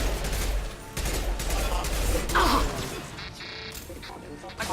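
Impact shot weapon fire in Mass Effect 2, heavy crashing blasts and gunfire mixed with combat noise, with a voice talking over the din.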